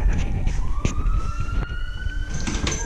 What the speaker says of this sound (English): It's like a cop car out there.